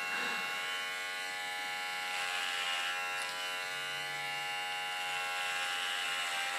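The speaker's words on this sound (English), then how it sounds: "Just go in with my clipper and clipper it short." Electric hair clipper cutting hair short, a steady close buzzing hum that runs unbroken throughout with no talk over it.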